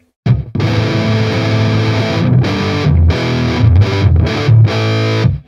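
An Ibanez Iron Label electric guitar, its tone knob turned to zero, plays loud distorted chords and riffs with short gaps between the phrases and no talk.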